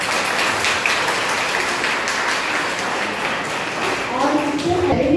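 Students and teachers at a biotechnology lecture clap together, a steady wash of many hands sustained throughout, with a voice starting to talk near the end.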